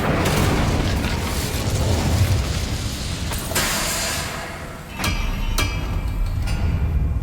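An Incendio fire spell cast in Hogwarts Legacy sets off a loud, dense roaring burst and then a few sharp cracks and pops against a constant low rumble.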